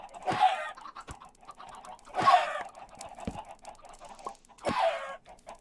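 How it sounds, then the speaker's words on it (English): Chickens in Minecraft (All The Mods 10 To The Sky), three separate short clucking calls spaced a couple of seconds apart, clear and fairly close with quiet gaps between. "let's go kill these chickens, see what happens"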